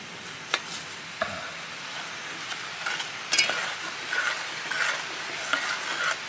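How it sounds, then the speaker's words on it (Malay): Palm sugar melting in a little water in a pot as it comes to a boil, soft bubbling and sizzling with occasional stirring clinks and scrapes, close and moderately quiet, no talking. "Gula merah kita tu mendidih dengan cair."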